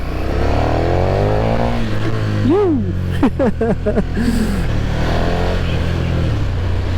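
A KTM 1290 Super Duke R motorcycle is ridden with a continuous engine drone that rises and falls as the rider shifts through revs, loud and close, while someone talks over it.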